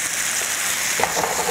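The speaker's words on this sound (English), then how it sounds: "I'll hear that sizzle because I need to bring that to a boil" Cornstarch and milk mixture sizzling in a hot pan as it is brought to a boil for a light Alfredo sauce, a steady close hiss with a few faint pops.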